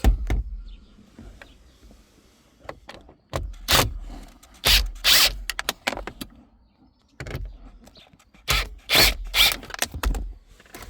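Screws come out of a Ford Focus MK3 dashboard around the Sony multimedia unit, close and loud, with bursts of ratcheting, plastic clicks and rattling handling separated by short quiet pauses.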